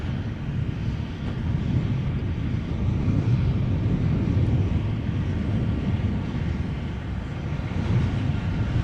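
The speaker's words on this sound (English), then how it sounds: "The Zurich A320 arriving from the Swiss A320 arriving from Zurich." A Swiss Airbus A320 arriving from Zurich at Amsterdam Schiphol rumbles low and steady on approach, a continuous broad engine roar with some wind buffeting and no talk.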